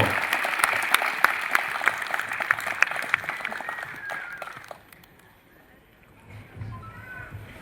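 An audience at a social group gathering claps to welcome a new president's first speech, dense applause with a few sharper claps that fades out after a few seconds, leaving a quiet murmur.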